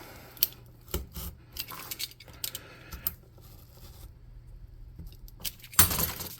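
A craft knife cuts out a window opening in a model building for a tabletop game, giving close, scattered scraping and clicking strokes, ending in a louder rasp, with no talking.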